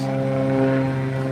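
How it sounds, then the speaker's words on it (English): A private single-propeller plane's engine drones steadily during takeoff at a constant pitch, loud and continuous, with no voices. "Can you hear the little engine?"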